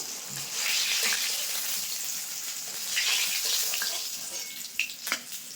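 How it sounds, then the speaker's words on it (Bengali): Steady hissing sizzle of pangas fish frying in hot oil, broadband and continuous, with a few sharper crackles near the end. "এই মাছগুলো কিন্তু খুব সুন্দর করে ভেজে নিয়েছি এখন তুলে নিচ্ছি"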